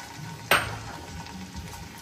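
Aloe vera, onion, garlic and rose petals frying in hair oil over low heat: one sharp sizzling burst as ingredients hit the pan, then a soft continuous crackle, close and without talking.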